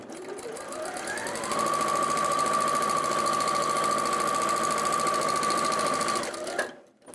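An Elna sewing machine runs steadily for about six seconds, stitching a fabric seam with a quarter-inch allowance; the close, even motor whir rises in pitch as it gets up to speed and then stops abruptly.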